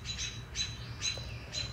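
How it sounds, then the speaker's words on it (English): Wild birds at the Alaska Raptor Center in Sitka give four shrill, evenly spaced squawks against a low background rumble of outdoor ambience, with no voices present. "just listening to those wild birds and the water streams was just so peaceful"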